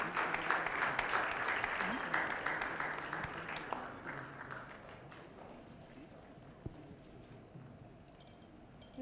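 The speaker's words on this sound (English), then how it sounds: "I think the clap should continue." An audience applauding during a felicitation ceremony, a crowd of many hands clapping fairly loudly at first, then thinning and fading into a faint room murmur with a stray clap or two.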